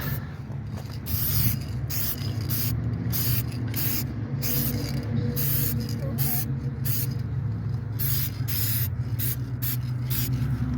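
Spray paint hisses onto a scratched two-tone car wheel rim in bursts of short and longer sprays, each hiss cutting in and out over a steady low background rumble.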